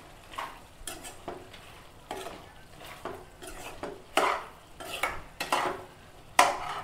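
Mutton liver pieces dropped into a hot pan, giving repeated bursts of sizzling and stirring with occasional clinks of utensil against the pan, alone with no talk.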